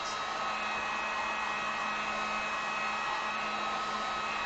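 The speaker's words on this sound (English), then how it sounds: "So just hitting this with the heat gun." Heat gun blowing steadily on acrylic paint, a continuous close, loud whooshing airflow with a faint motor whine running unbroken throughout, with no voices.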